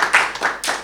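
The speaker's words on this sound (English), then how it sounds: "Now, let's hear a clap." Three quick, sharp hand claps in a brief, uneven rhythm from a debate audience, close and clear with nothing else beneath.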